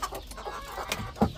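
A Cornish naked-neck cross rooster and hens give soft, scattered clucks at moderate distance, with a slightly louder call near the end.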